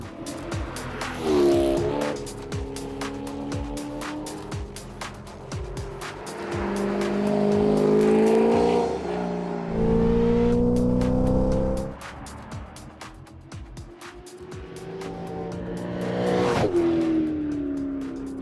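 A Z06 race car roars around a track, engine revving up and down through gear changes with tire squeals, loud and close throughout.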